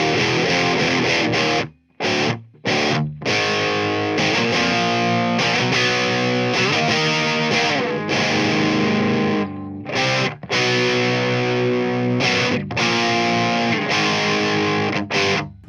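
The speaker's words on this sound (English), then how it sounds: "I'm gonna plug into the low input. That's gonna tell us what the pedal sounds like raw." Electric guitar played through a DOD 250 overdrive pedal plugged into an amp's low input, raw and unaltered, giving thick distorted chords and riffs that ring loud and continuous with a few brief stops.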